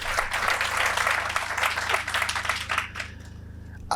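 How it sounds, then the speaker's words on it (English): A crowd at a sod-turning ceremony for Unisa Sunnyside development projects applauds the council and management with sustained, fairly loud clapping that fades out near the end. "we need to give our council a round of applause and the current management"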